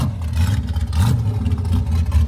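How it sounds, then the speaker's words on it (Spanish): The engines of a car called Hulk and a Corvette rev loudly nearby, a deep throbbing rumble that swells and falls in repeated surges with no talking. "Se oye muy bien los dos carros"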